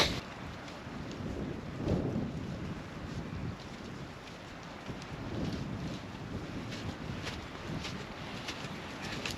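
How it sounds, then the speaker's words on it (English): Steady wind blowing across an open lake in light powdery snow, a continuous broad rush with gusty swells and buffeting on the microphone, no voices. "It depends how strong the wind is. Here you can really notice it."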